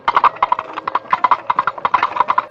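Coconut shell halves knocked together as a foley effect imitating horse hooves, giving a steady, close, fairly loud clip-clop rhythm of paired hollow knocks throughout, with no talking.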